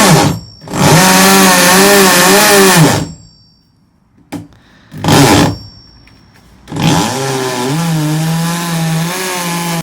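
A power drill bores a hole through the body of a caravan, whining loudly in three separate bursts of varying length with quiet gaps between them.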